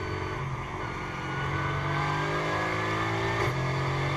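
Mercedes GT4 race car at the Spa circuit, engine holding a steady high drone with a sharp gear change near the end, heard from inside or close to the car, loud and continuous with no talk.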